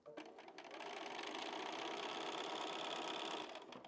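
A sewing machine stitches a fabric pocket on a summer picnic placemat, its needle chattering in a fast, even run at close range for a few seconds before slowing to a stop.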